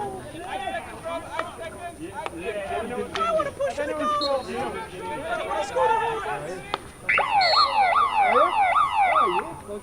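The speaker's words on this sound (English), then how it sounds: "the quarter time siren has come and the teams go in at the break" A quarter-time siren at a field hockey match sounds near the end: a loud, wailing electronic tone rising and falling in quick repeated sweeps. It cuts in over steady crowd chatter and a commentator's voice.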